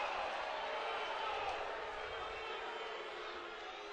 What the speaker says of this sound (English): Crowd disagrees.